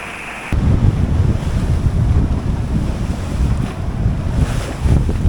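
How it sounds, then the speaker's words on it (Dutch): Wind and rain squall battering a sailboat at sea in the Doldrums, a steady loud roar of gusting wind and water rushing against the hull, swelling and easing throughout with no talk. "De wind gaat aan en uit."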